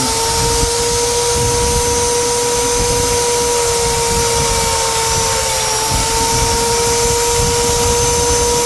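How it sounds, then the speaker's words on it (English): A loud electric drill, used while installing motorized RV foot pads, whirs continuously at a steady pitch, a constant motor whine with no pauses, close and alone. "Drill is on."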